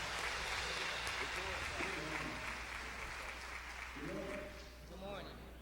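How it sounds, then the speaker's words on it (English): Audience applause welcoming a school principal at a back-to-school gathering, a broad continuous clapping wash with voices speaking and calling out over it. "Now give him a rousing applause,"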